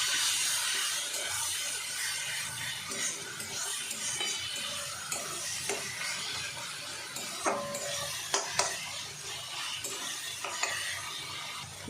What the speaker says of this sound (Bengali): এবার এই মশলাটা ভালো করে আমি কষিয়ে নেব